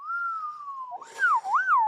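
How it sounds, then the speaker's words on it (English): A person whistles into a microphone, first one long sustained steady tone, then a quick warbling run of rising and falling notes, close and clear. "When you're whistling into a microphone"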